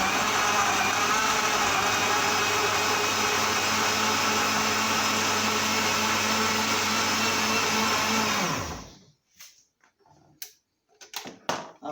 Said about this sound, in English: And I'm about to start my blender.